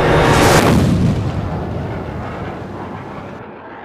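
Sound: warship naval gun firing

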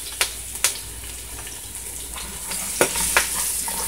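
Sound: garlic added to frying corned pork in a pan

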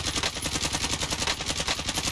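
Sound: machine gun fire in video game Call of Duty Warzone

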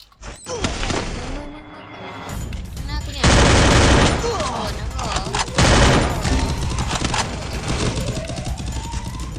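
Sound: gunfire in the video game Free Fire

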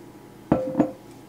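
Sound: small glass jars being handled

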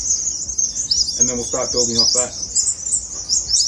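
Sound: birds chirping loudly in the background outdoors

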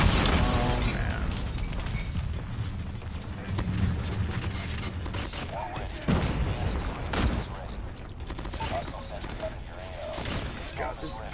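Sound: gunfire from the PHARO gun in Call of Duty, a video game

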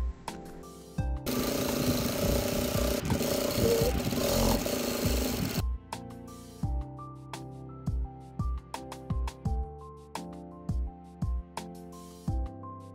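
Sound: sewing machine stitching pockets onto fabric

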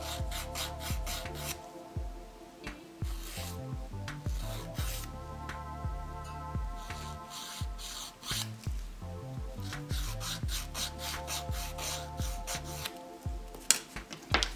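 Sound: nail file shaping a broken fingernail

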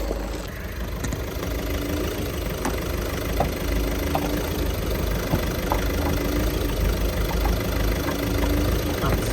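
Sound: used car engine idling smoothly at a car market

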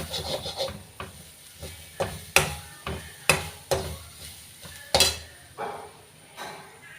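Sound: frying and stirring mushroom curry ingredients in pan

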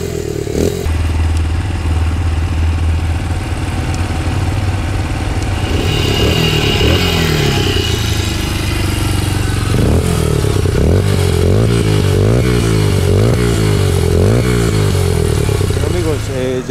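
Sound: motorcycle engine idling and revving

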